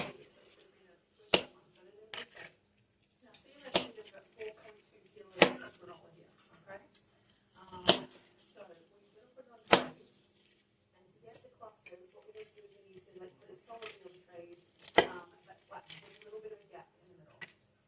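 Broccoli being chopped with a sharp knife on a kitchen board during home dinner prep, a series of crisp, sharp knife strikes spaced a second or two apart, with softer handling sounds in between.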